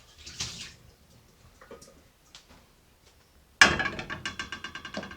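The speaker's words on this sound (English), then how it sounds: "For this, wash our saucepan." A saucepan being washed with water, with faint scattered splashes and clinks at first, then a louder burst of water followed by rapid, steady scrubbing or sloshing strokes close by, without any talk.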